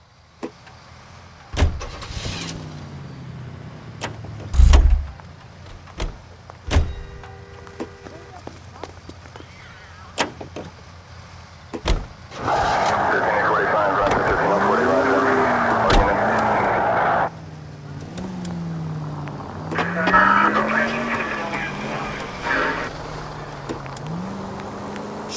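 Car in the L.A. Noire video game rumbling along with rising and falling engine tones and intermittent skids and knocks, mixed with voices and brief other game sounds.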